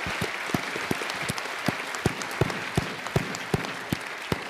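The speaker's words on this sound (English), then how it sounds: "So a round of applause for them." An audience at an annual science lecture applauds in a hall, a steady round of clapping with sharp individual claps standing out, loud and sustained with no speech.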